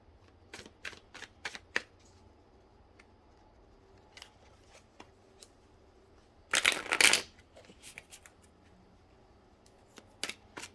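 Four tarot decks being shuffled together: scattered light card taps and flicks, then one loud, dense riffle burst in the middle, followed by more sparse snaps. No speech.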